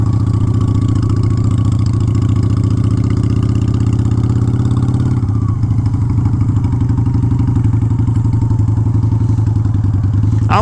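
A Honda Shadow motorcycle with a faulty front end idles loudly and steadily close by, its engine note dipping briefly and shifting as the clutch is worked midway, with a short rev near the end.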